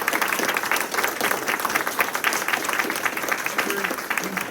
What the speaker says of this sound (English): So let's give a round of applause for all these students.